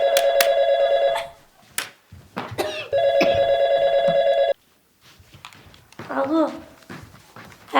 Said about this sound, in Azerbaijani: Götürün də bu telefonu!